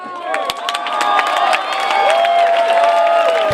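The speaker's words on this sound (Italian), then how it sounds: "Vogliamo fare un forte applauso a voi" At a summer opening party at Scivolandia, a large crowd claps and cheers loudly, with shouting voices and whoops over continuous applause that builds and holds throughout.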